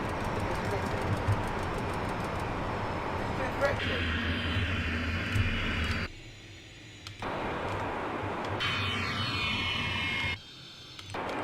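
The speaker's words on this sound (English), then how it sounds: "That's the chorus of 6 jet engines you're hearing." Six jet engines on an aircraft in Flight Simulator X, a loud, steady droning roar that cuts out abruptly twice before resuming, with voices heard at moments.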